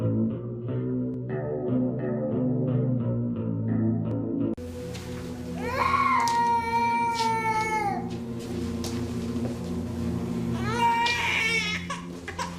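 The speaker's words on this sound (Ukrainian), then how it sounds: "це наче кіт попав під ніжку крісла" After a synthetic musical intro, a drawn-out, wailing video game cat yowl rises and falls, then a second strained yowl follows over continuing electronic music.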